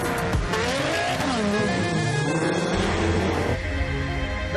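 Drag racing car accelerating hard from the start line, engine roaring loud and close with rising pitch, a steady sustained blast of engine noise with a faint tire squeal.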